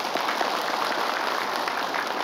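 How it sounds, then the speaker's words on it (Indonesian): Steady applause from a studio audience at an Indonesian religious talk show, a dense even wash of clapping lasting a couple of seconds with no voices over it. "Tepuk tangan dulu."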